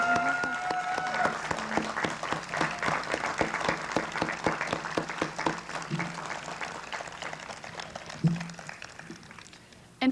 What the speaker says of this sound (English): So graduates, please join me in a round of applause to thank our family and friends.